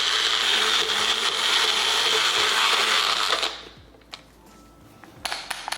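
Onion, ginger and green chili whirring in a blender into a smooth paste: a loud, steady motor roar for about three and a half seconds that then cuts off, leaving a few faint clicks and taps.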